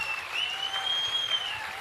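Audience applause at a live Tarlabalu Hunnime stage event, a steady, dense wash of many hands clapping that fills the short stretch without voices.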